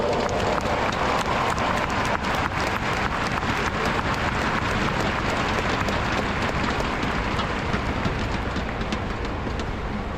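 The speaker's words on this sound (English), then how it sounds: "Let's give them both a round of applause." A large stadium crowd at a national day parade rehearsal applauds the parade commanders, a broad, roaring, rain-like wash of clapping that holds steady and loud for the whole stretch.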